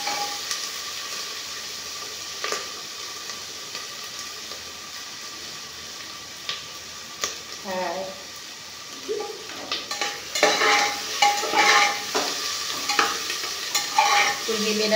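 Chickpeas roasting for chana masala sizzle softly in a pan, with intermittent stirring scrapes and clinks rising louder toward the end, close and without talk.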